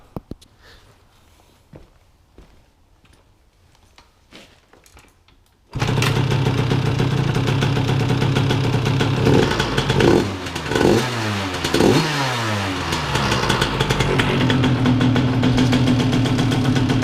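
A Derbi moped fitted with a Doppler ignition is quiet at first with a few light knocks, then its engine starts suddenly and idles loudly nearby, with the revs rising and falling several times.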